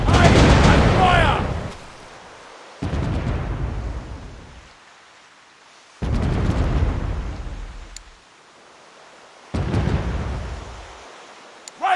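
Cannon fire and explosions from the pirate naval battle game The Pirate: Caribbean Hunt, four loud booming volleys at steady intervals, each with a sharp crack and a long rumbling decay.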